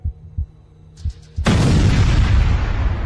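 An explosion that injured two air-conditioning technicians in Vinh Yen City: a few dull low thumps, then a sudden loud blast that swells into a sustained, roaring, broadband rumble.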